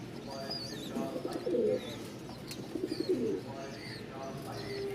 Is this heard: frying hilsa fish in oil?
no